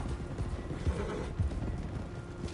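Hooves clip-clopping and a horse whinnying in the Red Dead Redemption 2 multiplayer game, a few quick hoof strikes alongside the neigh, with no speech.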